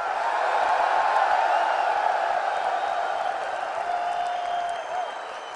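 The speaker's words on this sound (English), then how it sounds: "Clap your hands and scream," A church congregation claps and cheers loudly during a sermon on kingdom fatherhood, a dense, sustained roar of applause and shouting voices that fades slightly toward the end.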